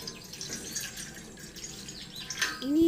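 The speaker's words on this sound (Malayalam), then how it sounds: "അതിനായിട്ട് ഒരു പാത്രത്തിലേക്ക് 2 ഗ്ലാസ് വെള്ളം ഒഴിച്ചു കൊടുക്കുന്നുണ്ട്" Two glasses of water being poured into a cooking vessel give a soft, close trickle and splash with a few drips, ending in a louder slosh.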